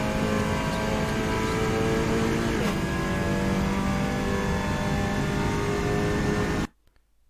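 A Cupra Leon race car in a racing game, held at full throttle around the Vallelunga circuit, gives a loud, steady, droning engine note for several seconds before cutting abruptly to silence.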